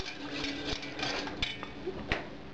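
A spoon scrapes and clinks against a metal pot in quick, irregular strokes, stirring semolina into cold milk, fairly soft and close.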